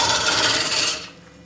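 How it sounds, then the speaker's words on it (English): A woodturning hollowing tool scrapes into a spinning wooden hollow form with a harsh, steady rasp that stops abruptly after about a second, leaving quiet lathe hum. "I'm sticking the tip of the tool into the drill hole right there and then sweeping to the left"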